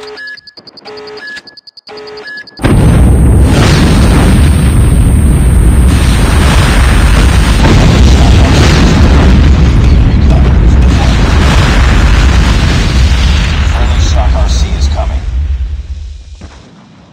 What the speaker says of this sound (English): Friendly nuke has been launched.